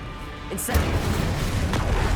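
A fire spell cast in the video game Hogwarts Legacy: a sharp whoosh and burst partway in, followed by a sustained rumbling, crackling roar of flames over busy game ambience.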